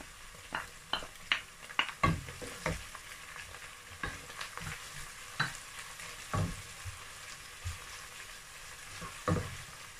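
A stew with crayfish and locust beans fries softly in a pot while a spoon stirs it, giving scattered clinks and scrapes over a low sizzle with no talking.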